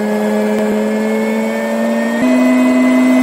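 A washing machine drum spins at high RPM with a steady, loud, close whine of clean tones that step up slightly in pitch partway through as the spin speed rises.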